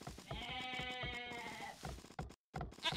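Goats bleat in an Age of Empires II match: a long, loud, wavering bleat, then short broken calls after a brief gap.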